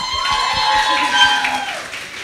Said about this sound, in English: have a round of applause for all of you.